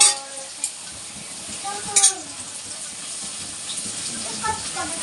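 Onions without turmeric sizzle softly in a pan while being stirred, a low frying hiss with a few clinks of the spoon, and a voice talks over it.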